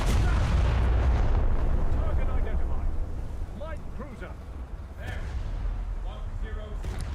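Anti-aircraft guns on a warship in a naval video game, a heavy dense rumble of rapid firing and booms that eases slightly midway, with a voice talking over it.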